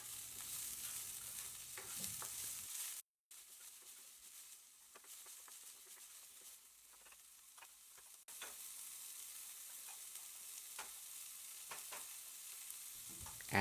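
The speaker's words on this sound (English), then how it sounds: "Then add the onions. Cook until translucent or soft." Onions frying in a pan for Nepali-style pasta, a steady bright sizzle with faint stirring scrapes, broken by a brief silent gap before the hiss resumes.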